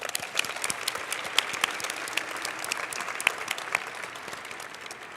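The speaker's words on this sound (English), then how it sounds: "Can we give MSI a huge round of applause?" Audience applause fills a large hall during a closing ceremony, a steady dense patter of many hands with a few sharper claps standing out, moderately loud and continuous throughout.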